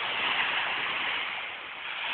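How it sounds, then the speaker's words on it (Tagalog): High ocean waves breaking on the shore at Subic Bay make a steady, loud roar of surf with continuous hiss and wash, no voices over it. "Napakataas ng alon na, di ba?"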